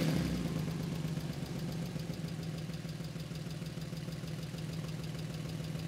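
A Porsche 911 GT2 RS sports exhaust idles with a deep, pulsing burble, loud and close at first, then settling into an even rhythmic throb with no voices.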